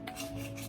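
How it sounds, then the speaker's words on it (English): A knife scraping around the inside edges of a gelatin-set deli meat mold, a short soft rasping rub with a faint steady hum underneath. "Marissa has to go around the edges with a knife"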